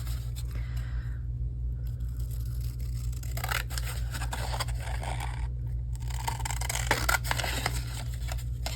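Paper being cut with scissors for a craft design project, giving intermittent scraping snips at close range over a steady low hum.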